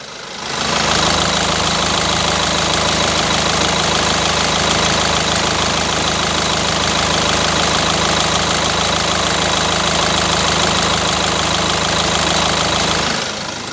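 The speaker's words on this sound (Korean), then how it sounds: "엔진 소리 바로 들려드리겠습니다" A Kia All New Carnival Hi-Limousine idles steadily, close and loud, a continuous even engine hum with a faint knocking texture that holds unchanged throughout, with no voices.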